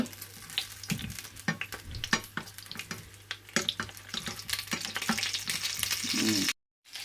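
Pork sizzling as it fries in a pan in a home kitchen, a steady crackle with scattered pops and scraping stirs, fairly quiet and close, cutting off abruptly near the end.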